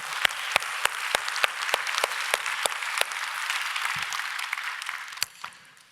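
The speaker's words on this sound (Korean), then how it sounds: "우리 아버지들 격려의 박수 한번 했습니다" A church congregation at a Sunday worship service applauds to encourage the fathers, a soft wash of clapping punctuated by sharp, regular percussive hits, tapering off near the end.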